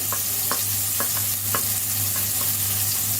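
Chopped onion, garlic and green chilli frying in hot oil for a Chinese-style pasta, heard as a dense, even sizzle under a faint low hum, with regular scrapes of a spatula stirring, close and steady, with no talk.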